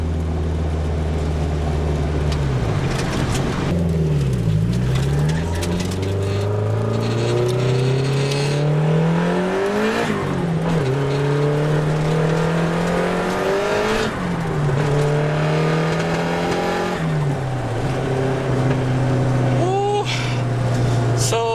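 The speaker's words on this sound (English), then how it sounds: "This thing pretty much rips, as you can tell. Really good SR20. Backfiring a little bit." A Nissan 180SX with an SR20 engine revs hard again and again, its pitch sweeping up and down, with sharp crackling backfire pops loud and close throughout.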